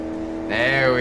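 A Jeep with an upgraded 6-speed transmission in Car Mechanic Simulator 2018 drones steadily, then its engine note climbs sharply as it accelerates hard past 100 mph. The tone is close, loud and buzzing.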